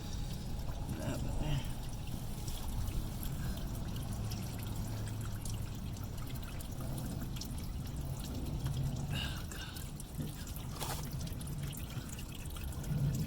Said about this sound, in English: we're gonna see if we can get some extra coolant to drain out of it